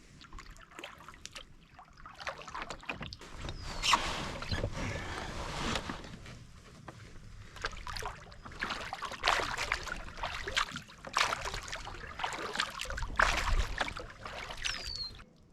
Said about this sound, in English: I'm paddling along